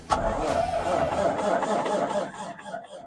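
A 2014 Peterbilt truck that will not start or stay running cranks over during a start attempt, a close, grinding churn that lasts several seconds before fading, with people talking and chuckling nearby.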